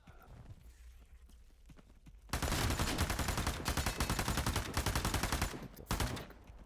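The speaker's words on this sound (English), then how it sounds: "Who's shooting us?" Rapid bursts of automatic gunfire in a first-person survival shooter, starting after a quiet stretch and rattling loudly and near for several seconds with a brief pause before a final burst.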